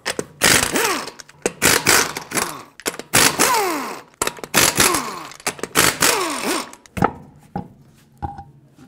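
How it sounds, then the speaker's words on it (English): Impact wrench bursts loosening five lug nuts from the front wheel of a 2008-2020 Dodge Grand Caravan with a 19mm socket, several loud whirring rattles in quick succession, close by, with short pauses and a few lighter clicks at the end. "Take a 19mm socket, remove all 5 of your lug nuts, and then remove the wheel."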